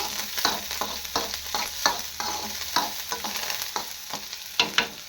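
Green chilies and coriander fry in a pan for a ragi flour fritter batter, a loud close crackle punctuated by repeated rhythmic stirring scrapes of a utensil, with no talking.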